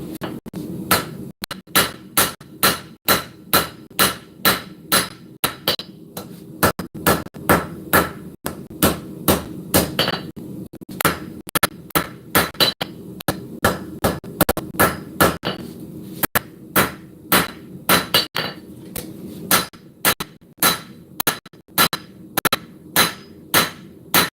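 Hammer blows ring out on hot metal during blacksmith forging, a long run of sharp, loud, evenly spaced strikes in quick rhythm, each one clear and alone with brief pauses between bursts.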